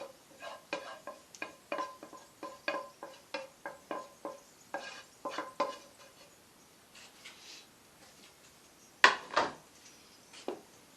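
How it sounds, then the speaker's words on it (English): Finely chopped mushrooms going into a saucepan and being stirred, with a series of soft scraping and tapping knocks of a utensil against the pan, close and fairly quiet, plus a sharper clatter near the end. "we're going to return the saucepan to the heat, add the finely chopped mushrooms"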